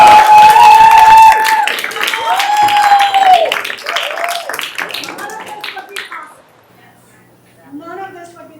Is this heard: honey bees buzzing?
no